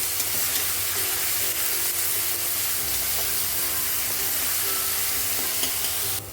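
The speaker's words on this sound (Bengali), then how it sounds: "এখন দিয়ে দেবো পেঁয়াজ বাটা, দিয়ে ভালো করে কষিয়ে নেবো পেঁয়াজটাও একদম লাল লাল করে।" Onion paste frying in a pan for a potato and sea-fish mustard curry, a steady dense sizzle with stirring scrapes running throughout, close and loud, with no talk.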